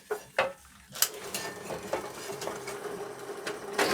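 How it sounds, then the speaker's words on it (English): Drilled holes in metal table parts being deburred by hand, giving scraping, clinking tool contacts with a few sharp metallic knocks over a steady background hum, close and moderately loud. "I'm just going to deburr all of them, and then I'm going to countersink the right places."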